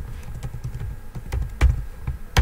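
Rapid, uneven keystrokes on a computer keyboard, close-up taps with a few sharper, louder clacks toward the end, no talking over them.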